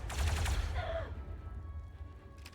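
A short burst of gunfire in the video game Zero Company, a rapid volley of shots in the first second, then a fading tail and low rumble.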